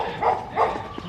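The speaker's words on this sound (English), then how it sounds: "Oh shit, that's a pit bull." Pit bull giving two short, gruff barks close by, spaced a fraction of a second apart, followed by a faint yip.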